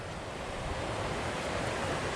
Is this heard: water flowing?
yes